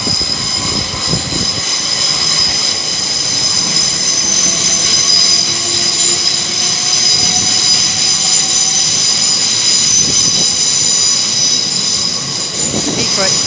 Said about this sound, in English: That was the Heathrow Express train.